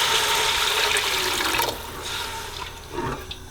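Water poured from a mug into a cooking pot of lamb meatball curry with potatoes, a close splashing stream that fades out, then a few brief trickles and drips.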